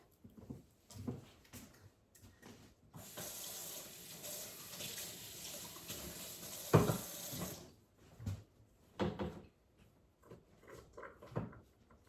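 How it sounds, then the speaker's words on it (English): Cans rinsed under a running kitchen tap, a steady broadband rush of water for several seconds with a sharp clank partway through, framed by quieter handling sounds before and after. "let me wash these cans off"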